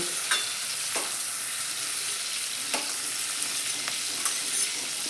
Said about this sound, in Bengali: একই তেলের মধ্যে দিয়ে দেব রসুন কুচি আর দিয়ে দেবো একটা শুকনো লঙ্কা কুচি দিয়ে একসঙ্গে একটু ভালো করে লালচে করে ভেজে নেব